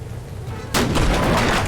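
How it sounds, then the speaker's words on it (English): Naval deck gun fires in a World War II naval warfare game, a single sudden loud broadband blast cutting in after a low rumbling lull and ringing on at full strength to the end. "She's firing back with her deck gun."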